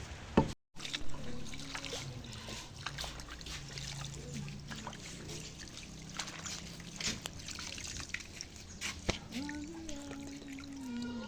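Pounded palm fruit being washed in water for palm oil processing, with close trickling, sloshing and occasional knocks against a container, steady throughout with faint outdoor background.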